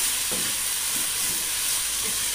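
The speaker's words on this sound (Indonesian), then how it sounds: "Ini mie-nya kan sudah direbus setengah matang, jadi tidak lama dimasaknya ya." Half-boiled noodles stir-fry in a pan, giving a steady hiss of sizzling with a few soft scraping stirs. No voices are heard over it.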